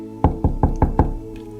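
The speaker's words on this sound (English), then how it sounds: "Dr. Henderson knocks on the women's room door." Five firm, evenly spaced knocks on a women's room door, solid and close, followed by a brief quiet.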